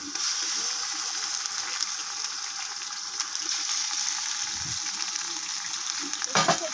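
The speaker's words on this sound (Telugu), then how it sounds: "తర్వాత మనము అల్లం పేస్ట్ వేస్తున్నాం." Ginger and garlic paste frying in hot oil for pulao makes a continuous, bright sizzling hiss up close, with a couple of short low knocks from stirring and no speech.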